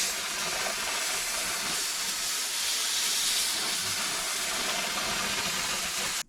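Compressed air from a nozzle blows dust out of a cartridge dust collector filter, a loud, continuous, close hiss that holds steady throughout and stops abruptly at the end.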